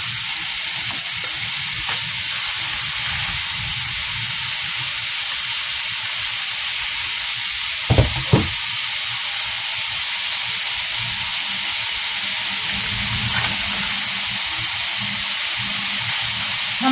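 Barley and minced meat sizzle steadily in a pan, a constant loud hiss of frying with a couple of brief clanks of a utensil partway through and no talk.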